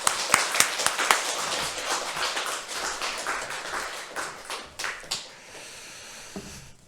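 Church congregation clapping in welcome for a visiting pastor, sharp scattered claps settling into dense applause that thins and fades out toward the end.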